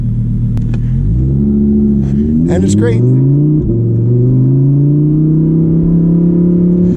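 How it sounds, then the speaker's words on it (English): Loud Lamborghini Huracan Evo engine droning steadily close-up while driving, its pitch climbing and shifting with a brief rev burst, under a few spoken words. "This is probably the loudest car I've ever driven"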